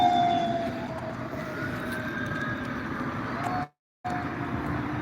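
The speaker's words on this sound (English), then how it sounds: "But we hear more sirens out here." Distant sirens drift outdoors, thin wavering tones over a low steady rumble of background noise, briefly cutting out to silence before the ambient hum resumes.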